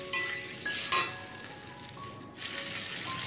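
Tomatoes with dried chillies fry in a pan, a steady hiss running throughout with faint stirring scrapes and a brief dip in the sizzle near the end, no voices.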